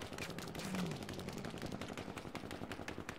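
Gunfire in the online multiplayer video game Battlefield 5, a dense, steady clatter of repeated shots with a louder burst near the start, heard at moderate level without talk.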